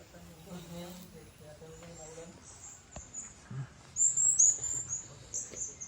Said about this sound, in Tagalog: Huni ng ibon.